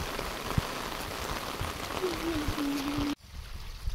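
Steady rain patters on surfaces in a Nepali village with a constant hiss, a faint voice briefly audible underneath before the sound drops off sharply.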